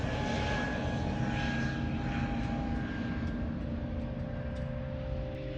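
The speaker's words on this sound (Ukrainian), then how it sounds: "ми приїхали в аеропорт заздалегідь і дивились, як злітають літаки" A loud, steady aircraft engine drone fills the air at Boryspil airport, a continuous roar with a faint whine, sounding like a plane powering up nearby for takeoff.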